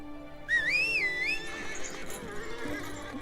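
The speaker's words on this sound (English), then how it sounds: "Alright, gotta ride the horse." A horse whinnies in a video game, a single bright, wavering neigh rising and falling for about a second, followed by quieter background sounds that may include hoofbeats.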